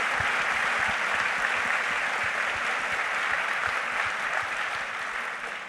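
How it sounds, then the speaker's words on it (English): An audience at a book festival closing address claps after a presentation, a full and sustained round of applause that stays even for several seconds and then begins to taper off at the end. "So another round of applause for an excellent presentation."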